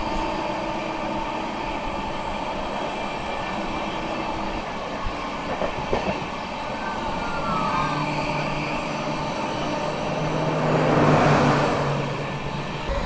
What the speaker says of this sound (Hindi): अभी बांद्रा आजमगढ़ स्पेशल जो है वो क्रॉस होने वाली है अपने से।